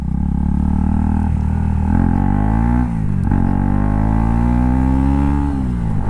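KTM Duke 250 motorcycle engine revving at full throttle in second gear, a loud, close, continuous drone whose pitch climbs, dips briefly, and climbs again over six seconds.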